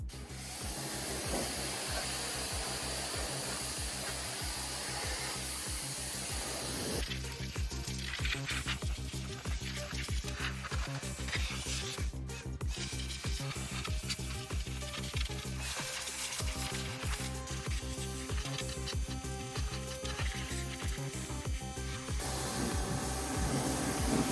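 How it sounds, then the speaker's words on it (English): A power washer sprays the bare floor pan inside a '57 Chevy interior, giving a steady loud hissing spray with mechanical hum and shifting tone throughout, alone with no talk. "I'm gonna run the power washer over all of this."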